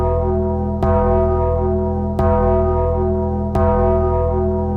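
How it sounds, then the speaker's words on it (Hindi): A hand-rung bell on the way to a cremation ground, struck three times at even intervals, each clang ringing on over a steady, sustained tonal drone, with no voices. "अरे घंटा बजाते बजाते मेरा दिमाग सुन पड़ गया भाई साहब।"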